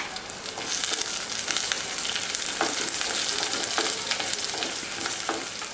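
Turkey berries sautéing in oil for a Tamil kara kuzhambu, a continuous close sizzle with crackling and periodic scraping stir strokes, no talk.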